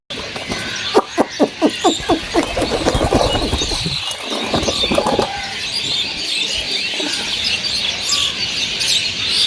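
Pigeons flutter and peck with a quick burst of wing flaps early on, then soft cooing and scratchy feeding noises continue close by as they eat scattered rice.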